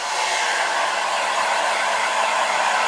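A blow dryer blasts steadily close by while drying a cat, a constant loud rushing whir with no pauses or voices.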